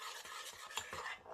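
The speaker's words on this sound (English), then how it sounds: "And just stir it up to" A spoon stirs homemade chocolate sauce with a pinch of salt, making soft rhythmic scraping strokes against the pot, close and fairly quiet, with a brighter clink at the very end.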